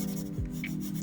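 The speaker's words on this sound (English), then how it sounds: "Now here is some real-time pencil noises for y'all." Graphite pencil rubbing and scratching across sketchbook paper in a quiet room, a steady soft rasp of continuous strokes with no voices.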